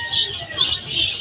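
Java finches at a pet market in Malabon: a loud, close, steady wash of high chirping and twittering from several birds, with a low background murmur.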